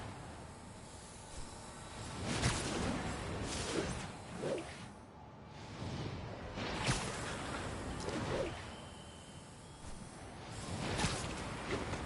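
Pigeons in the Marvel's Spider-Man video game flutter with repeated wing whooshes and faint coos, several bursts spread over about twelve seconds against a quiet background.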